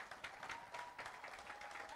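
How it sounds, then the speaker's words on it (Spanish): Applause for the mayoral candidates at a district debate in Arraiján, Panama, a steady patter of hand claps across the hall, fairly quiet and distant, with faint voices mixed in. "les pido un fuerte aplauso para nuestras candidatas y candidatos"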